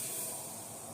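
Milk poured into a hot, empty clay pongal pot hisses and sizzles steadily and loudly, a continuous close-up crackling hiss with no voices.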